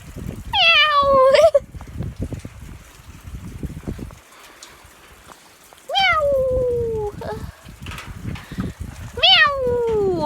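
A cat meows outdoors in the rain, giving three loud, drawn-out, falling meows spaced a few seconds apart. A steady patter and trickle of rainwater runs underneath.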